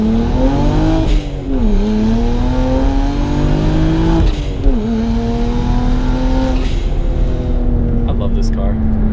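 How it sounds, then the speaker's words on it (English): A twin-turbo BMW 335i accelerates hard through the gears, its engine note climbing and dropping at each shift, loud and close, with a person talking over it. "I hope with a single turbo it pops as much as it does now."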